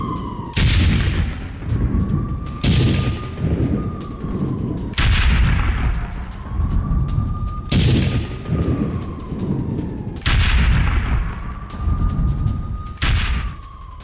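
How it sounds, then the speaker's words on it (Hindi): Missile strikes and gunfire in Gaza: loud booming blasts roughly every two to three seconds, each bursting sharply and then rolling away, with a high whining tone drifting between the hits. "आईडीएफ ने गाजा पट्टी पर कई मिसाइलें भी दाग दी हैं"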